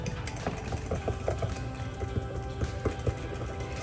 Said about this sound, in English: we're just whisking this